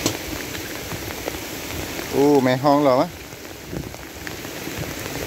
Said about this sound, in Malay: Cok cik je lah hujan tu.